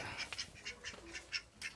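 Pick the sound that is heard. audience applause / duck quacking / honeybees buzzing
duck quacking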